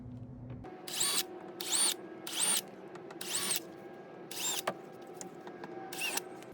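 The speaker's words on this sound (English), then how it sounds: "anytime I drill in or cut into any of the coolers" A power drill bores into a plastic cooler being turned into a cat shelter, in six short, evenly spaced high-pitched bursts over a quiet background hum.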